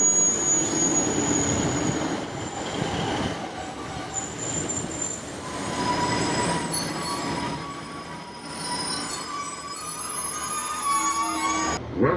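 A Northern train pulls into Middlewood station with its wheels squealing, long high metallic whines that rise and fade over a steady rumble of rolling stock, loud and close for the whole stretch.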